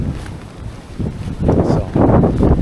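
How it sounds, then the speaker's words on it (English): Steady wind blows outdoors on a Christmas walk, buffeting the microphone with low rumbling gusts that grow stronger and louder toward the end. "it's quite windy out as well"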